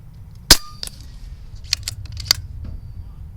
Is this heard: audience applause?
no